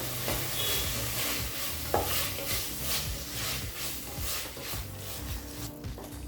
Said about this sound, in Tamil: இப்போ வேக வச்ச தட்டைப்பயிரை இதில் சேர்த்துக்கலாம்